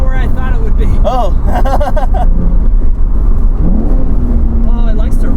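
A Nissan 350Z with a lightweight flywheel revs up quickly in a few sharp blips, loud and close, settling into a rising drone; excited voices talk and exclaim over the engine.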